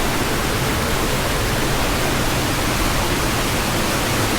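A waterfall along the Beaver Lake Trail in Sitka, Alaska, heard as a loud, continuous rushing roar that stays constant and fills the whole moment, with no voices.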